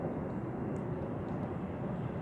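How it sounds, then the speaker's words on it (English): Steady broadband drone of airplanes passing overhead, a continuous low rumble with no distinct peaks, moderately loud and unbroken throughout. "I see airplanes."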